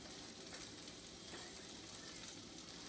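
Morel mushrooms pan frying to golden brown, a steady dense sizzle and crackle filling the pan throughout, close and even with no voices.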